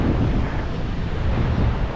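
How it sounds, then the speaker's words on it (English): Atlantic Ocean surf and gusting wind at the Kasbah of the Udayas in Rabat, a dense low roar with microphone buffeting, loud and continuous, no speech. "magnificent, overwhelming Atlantic Ocean"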